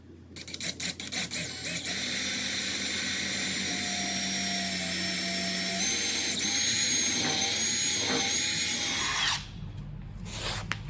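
A power drill bores through the transom of a 1984 Chris-Craft Catalina 381 boat at close range for about nine seconds, its high whine shifting slightly in pitch, then cuts off abruptly.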